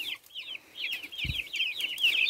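Chickens cluck in quick, repeated chirpy bursts nearby, with a brief dull thump partway through.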